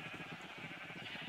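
Flock of sheep bleating in a video game, a quiet, wavering, repeated bleat pulsing steadily with no talk over it.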